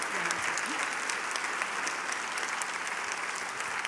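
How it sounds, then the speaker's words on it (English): An audience claps during the closing address of the Savannah Book Festival, dense sustained applause from a large crowd filling the room, even and steady, with no talk over it. "I would like to give another round of applause to Mary Kay Andrews, Kristin Harmel, Kristy,"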